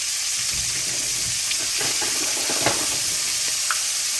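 Onions and garlic sizzle in oil in a pan with a steady, dense hiss, broken by faint scrapes and clicks as they are stirred.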